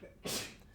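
A single short sneeze, fairly quiet, a sharp breathy burst that fades quickly.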